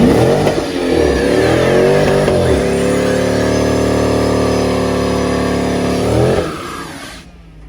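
A 2013 Dodge Charger R/T doing donuts, its engine revving hard and holding a loud, sustained roar that rises and falls in pitch before dropping off near the end, close by with no talking.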